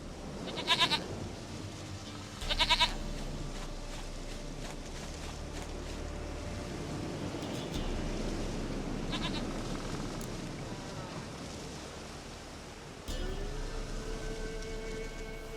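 Goat bleating in The Witcher 3: Wild Hunt, two short bleats near the start over game ambience and soft background sound, with no talk.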